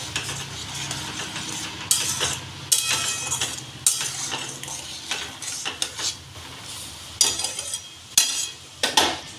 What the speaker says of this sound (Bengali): এটা একটু ফুটিয়ে ঘন করে নেব।